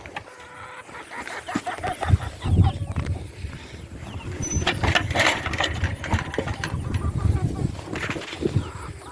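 Backyard chickens kept cooped up, clucking as feed is put out for them, with an engine idling nearby and a person talking over the steady farmyard noise.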